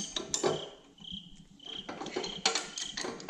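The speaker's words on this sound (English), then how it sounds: "some kind of cricket or something, right?" A cricket chirps steadily in a garage, a thin high trill heard clearly in a quiet stretch and partly masked elsewhere by clinking and clattering from work going on nearby.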